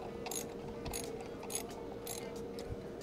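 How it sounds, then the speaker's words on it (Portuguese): Ratchet clicks snug three bolts on a Peugeot-Citroën DV6 diesel engine, short quick bursts of metallic ratcheting repeating at a steady pace over a continuous low workshop hum. "podemos encostar inicialmente os 3 parafusos espaçados em forma de triângulo"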